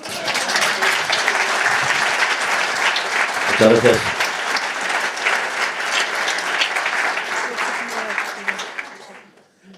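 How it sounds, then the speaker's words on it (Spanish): An audience at a Madrid literary event applauds in a sustained wash of clapping that fades out at the end, with a brief spoken thanks partway through. "Un aplauso, por favor."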